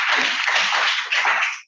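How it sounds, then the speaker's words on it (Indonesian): Audience clapping for a guest speaker at the end of a university webinar on Balinese arak, a short burst of dense applause, fairly close and steady, fading out at the end. "Tepuk tangan untuk beliau."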